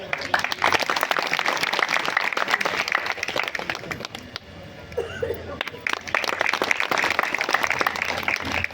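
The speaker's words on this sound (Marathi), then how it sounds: "आपण त्याला टाळ्या वाजवायच्या आहे." A crowd at a padyatra stop in Khirdi, Jalgaon, in Khandesh applauds steadily, clapping dense and sustained through most of the stretch, easing briefly midway before swelling again, with voices mixed in.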